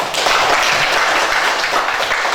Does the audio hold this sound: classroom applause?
yes